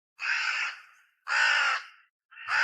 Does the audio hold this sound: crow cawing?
yes